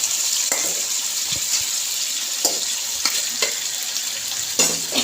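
Boiled beef tipped into plenty of hot oil and spices for a traditional Bengali beef dish, giving a loud continuous sizzle and hiss broken by a few sharp spatters and stirring clatters.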